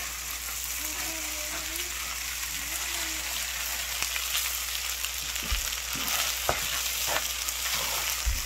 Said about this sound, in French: On va continuer à tourner. Mélanger le riz correctement.